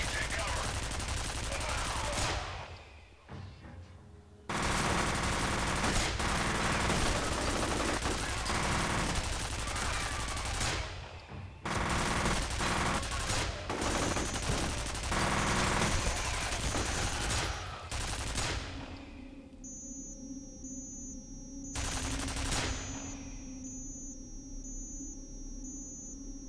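Turret gunfire in the video game F.E.A.R., loud sustained bursts of automatic fire broken by short pauses, ending with electronic tones and a final burst.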